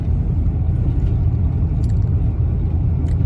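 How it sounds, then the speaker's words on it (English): A 1998–2005 Ford Expedition fitted with a cold air intake cruises along with a steady, loud low engine and road rumble from inside the cabin. "Taking a little drive in the Expedition."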